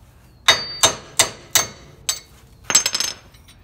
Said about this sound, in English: by taking a hammer, we can go ahead and just start hitting the stud until we drive it all the way out